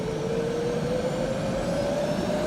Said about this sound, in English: my UCAV should have fixed now so that I can actually control this and taxi forwards when I start the engine